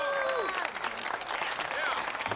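An audience cheers and applauds at a televised poker tournament as a chip leader stacks up chips; dense, steady clapping fills the short stretch while a commentator's voice talks over it.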